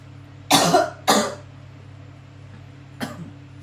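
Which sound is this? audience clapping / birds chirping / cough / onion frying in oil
cough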